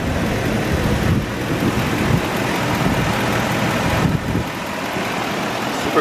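A 2006 Ford Econoline E250 3/4-ton wheelchair conversion van with a 5.4 liter V8 idles steadily, a continuous low engine rumble at close range with no talking.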